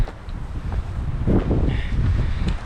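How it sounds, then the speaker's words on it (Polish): Gusty wind rumbles and buffets the microphone steadily, with low roaring noise and occasional stronger gusts; no talking. "Jest taki wiatr."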